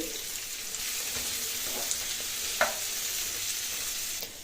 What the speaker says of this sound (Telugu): టమాటాలు ఉండే పచ్చివాసన పోయే వరకు బాగా కలుపుకోవాలి